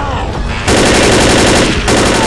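Rapid, repeated gunfire from a video game, a sustained loud burst of automatic shots filling most of the clip after a brief quieter lead-in, with a short dip before the firing resumes.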